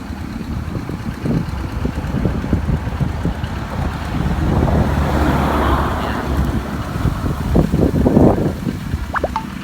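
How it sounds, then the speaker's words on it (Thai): Strong wind blows by a canal during rain, buffeting the microphone with loud rumbling gusts that swell and ease, surging in the middle, along with scattered bumps and handling thuds. "มื่อกี้ก็มีลมฝนมานะครับ ลมก็ค่อนข้าง แรงครับ ตอนนี้"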